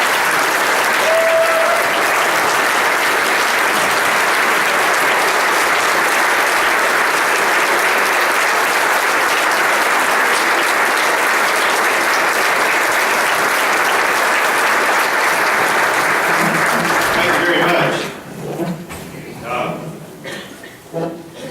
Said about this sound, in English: let's give David Rouzer a round of applause